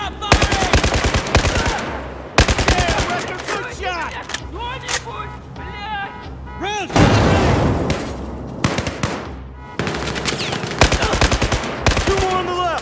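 Rapid bursts of soldiers' automatic gunfire in a Battlefield 4 battle, loud and sustained with short pauses, mixed with shouted voices.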